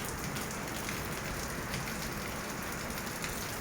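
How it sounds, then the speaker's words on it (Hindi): Steady rain falls and patters continuously on a surface, a soft, even hiss with no voices. "देखो मेरे इधर तो बारिश हो रही है।"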